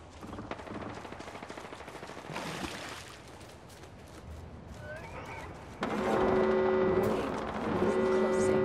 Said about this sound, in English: Let rip. Firing.